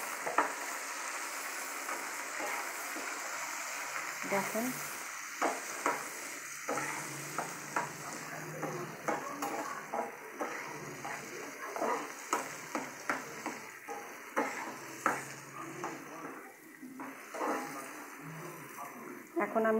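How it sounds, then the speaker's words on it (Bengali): Long beans and potatoes with chili frying in a pan, a steady sizzle broken by repeated scraping stirs of a spatula, with someone speaking briefly over the cooking. "একটু বরবটি আলু এগুলো একটু ভাজা দেবো।"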